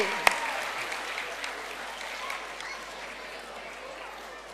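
Parents in a school annual day audience clap together during a lucky draw, a broad, even patter of many hands that holds steady and slowly fades, opening with one sharp knock.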